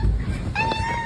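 A pet cat gives a single clear meow at home, a short, fairly close call rising out of quiet room noise.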